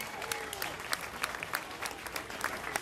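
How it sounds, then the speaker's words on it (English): A crowd at a groundbreaking ceremony gives a dense, steady round of applause lasting the whole stretch, with scattered voices mixed faintly into the clapping. "Let's go ahead and give a round of applause for everybody."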